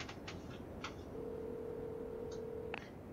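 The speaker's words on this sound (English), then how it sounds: "Oh, it's a phone." In the video game Devil May Cry 5, a telephone gives short electronic beeps followed by a steady ringing tone, quiet and alone with no voices.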